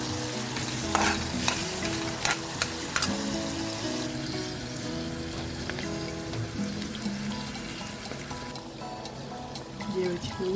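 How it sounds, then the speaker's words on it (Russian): Onions fry and are stirred in an old cast-iron skillet, sizzling steadily with scraping strokes of the spoon, close and continuous. "лук хорошенечко обжариваем, чтобы он не был белым потом в супе"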